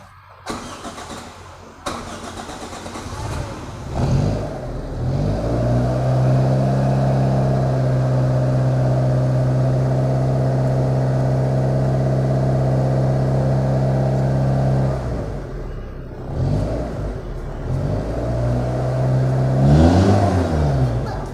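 A Daihatsu Charade car engine cranks and catches, then idles steadily and rises into several rev blips, close and loud, with brief mechanical clatter around the start and end.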